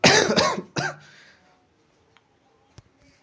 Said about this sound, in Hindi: सॉरी फ्रेंड्स, थोड़ा सा खांसी हो गया है